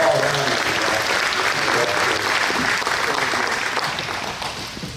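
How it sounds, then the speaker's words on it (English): Audience applause at a museum event honoring community members, a dense steady wash of clapping from a crowd that holds for several seconds and begins to taper off at the end, with no talk over it. "I'd like to recognize them with a round of applause"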